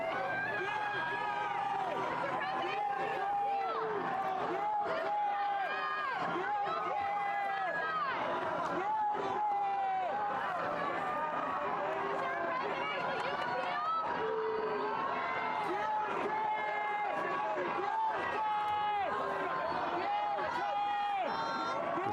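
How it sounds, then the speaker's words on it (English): An outdoor crowd gathers outside Donald Trump's residence after his guilty verdict in the hush money trial, a steady roar of cheering, shouting and chanting voices that continues without a break. "you can hear crowds"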